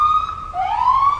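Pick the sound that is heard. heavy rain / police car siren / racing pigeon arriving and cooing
police car siren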